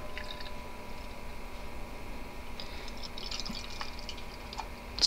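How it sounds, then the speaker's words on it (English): Magic Hat Not Quite Pale Ale poured into a glass gives a faint, continuous trickle with light fizzing and a few small drips, close and quiet. "The not quite pale ale pour."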